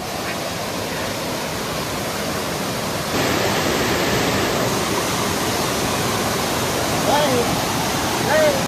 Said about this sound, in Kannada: ಅಲ್ಲಿ ಬೆಟ್ಟದಿಂದ ಮೇಲ್ಗಡೆ ಬೀಳ್ತಾ ಇತ್ತಲ್ಲ ಆಗ್ಲೇ ನೀರು, ಅದೇ ಇರುಪ್ಪು ಫಾಲ್ಸು.